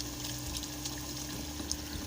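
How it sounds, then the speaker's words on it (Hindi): Water is poured into a pot of potatoes and peas cooking with meat, a steady close gurgling splash that runs without break under a low background hum. "तो तकरीबन आधे लीटर के करीब, पौने लीटर के करीब इसमें पानी ऐड कर रहा हूँ"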